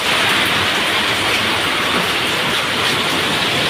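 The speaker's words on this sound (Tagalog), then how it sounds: "Ang lakas ng ulan" Heavy rain pours down in a dense, steady roar, loud and close, with no break across the whole stretch and no voices.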